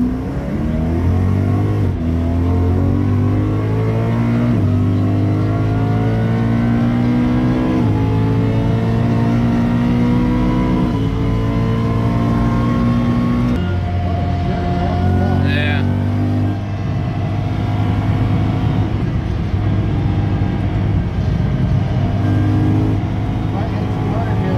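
A BMW M3 lapping the Nürburgring fills the cabin with a loud, continuous engine note that climbs through the gears in repeated rising sweeps, with shift breaks between them. Occupants talk over the engine.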